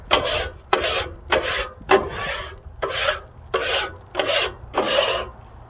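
A metal spatula scrapes around the edges of a flat-top griddle cooking Hawaiian chicken fried rice, a series of eight close, harsh rasping strokes in an even rhythm with no talk.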